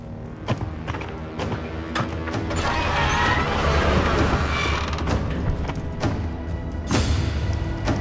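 A heavy city gate swings open with a creaking, grinding mechanism, loud and close, thuds and ratcheting clanks mixed in, building through the middle and ending with a sharp knock.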